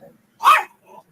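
A dog indoors lets out one sharp, close bark at something outside the door, flanked by faint low sounds before and after.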